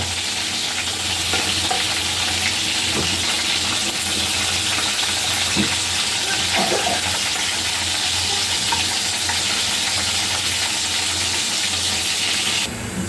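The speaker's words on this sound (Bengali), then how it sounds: "চিকেনগুলো আমার ভাজা হয়ে গেছে" Chicken pieces sizzle and crackle in hot oil, a continuous loud frying hiss with occasional clinks of a utensil stirring.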